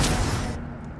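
An Incendio fire spell cast in Hogwarts Legacy: a loud, close, booming whoosh of flame that cuts off sharply after about half a second, leaving a quieter rumble.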